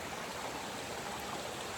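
Water from a stream along the Appalachian Trail, near the Massachusetts–Vermont line, rushes and trickles in a steady, fairly loud broadband wash that fills the whole stretch without pause, with no voices over it.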